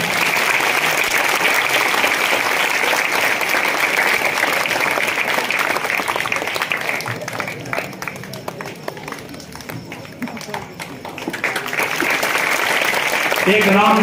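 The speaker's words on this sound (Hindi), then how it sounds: "तालियां लगातार बज रही हैं" Sustained audience applause at a Ramlila event, where members of the transgender community are being welcomed on stage by the committee president and minister; loud clapping runs throughout, dipping slightly in the middle before swelling again, with voices mixed in.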